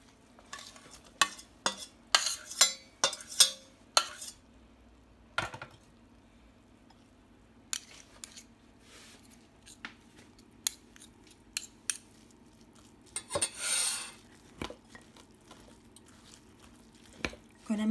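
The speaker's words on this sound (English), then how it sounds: "So I'm gonna mix it with the walnut, and it's very delicious." Dates being mixed with walnuts in a bowl for Iraqi Assyrian kleecha, heard as scattered, irregular scraping and clicking stirs with quiet gaps between them.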